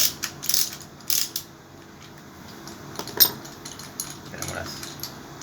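A ratchet wrench works on the 3/4-inch cylinder head bolts of a Torino seven-main-bearing engine, giving short bursts of close metallic clicking and clanks with pauses between them.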